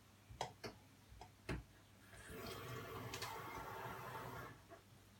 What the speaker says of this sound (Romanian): Uitați aici, dau drumul la apă.